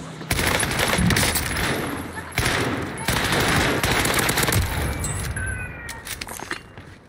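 Rapid automatic fire from an EM2 SMG in Warzone, long near continuous bursts with a short break, loud and close, with faint game sounds around it.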